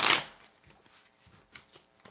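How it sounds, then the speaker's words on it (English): Tarot playing cards shuffled loosely for a reading: one loud close riffle burst at the start, then softer sliding and tapping card sounds. "One more shuffle."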